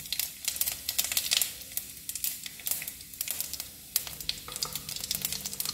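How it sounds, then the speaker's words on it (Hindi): Cumin seeds crackle and sizzle in hot oil for black chickpea chaat. The dense spitting and popping stays close and continuous throughout. "देखिए, हमारा तेल गर्म हो गया है और इसमें हम जीरा डालते हैं।"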